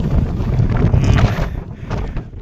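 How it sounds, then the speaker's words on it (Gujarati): Steady cold wind rushes and buffets close to the microphone near Junagadh, swelling and easing over a couple of seconds with no talking. "અહીંયા એક નંબર ઠંડો પવન આવે છે"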